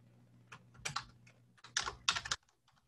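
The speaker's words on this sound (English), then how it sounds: "Type in daily again to tell it what data frame we want sorted." Short flurries of close, quiet keystrokes on a computer keyboard while entering R commands, a few clicks then a denser rapid burst before stopping.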